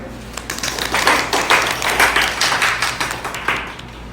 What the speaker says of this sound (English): this resolution clearly passes. Clapping is in order.